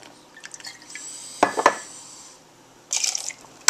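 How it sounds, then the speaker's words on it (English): Sake is poured into a cocktail shaker with ice: a soft splashing pour, a burst of liquid and clinks mid-way, then a brief bright trickle, close and without speech. "And then we're going to pour out our sake."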